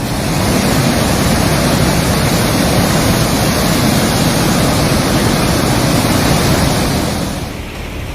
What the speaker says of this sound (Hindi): इसी बारिश के कारण मशहूर अजंता की गुफाओं का झरना पूरी तरह से उफान पर आ गया।